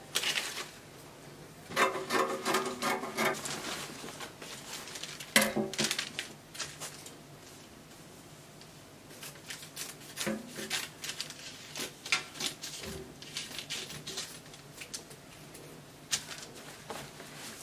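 Fabric laid on a table is cut out along a pattern in irregular bursts of soft snipping and rustling, close by, separated by quiet pauses, with no talking.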